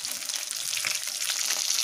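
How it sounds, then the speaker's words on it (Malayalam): Pepper chicken sizzling in a hot pan right after being flipped, a steady bright hiss of frying oil, close and continuous without talk. "അപ്പോൾ നമ്മുടെ ചിക്കൻ നമുക്കൊന്ന് മറിച്ചിട്ട് കൊടുക്കാം കേട്ടോ."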